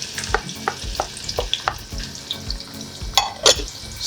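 Red onions fry and sizzle in cooking oil while being stirred to caramelize, with a steady crackle broken by repeated rhythmic scraping strokes of a spoon against the pot, close and clear.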